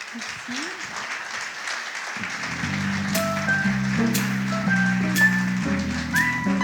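An audience applauding company employees at a corporate event, a steady, moderately loud wash of clapping that continues while sustained music tones come in underneath.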